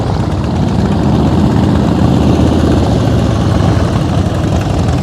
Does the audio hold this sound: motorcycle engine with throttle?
yes